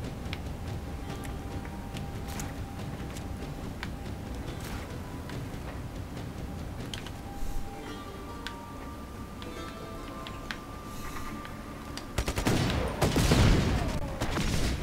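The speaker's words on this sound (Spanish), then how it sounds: "Esas explosiones son geniales, pero es peligroso." Rapid crackling bursts and booming blasts from explosions in the video game Just Cause 3, a continuous barrage of small pops rising to heavier rumbling detonations near the end.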